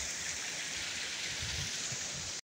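Stream water from Noori waterfall in the hills of Hazara rushes past with a steady hiss and splash, moderately loud and continuous, stopping abruptly at the end.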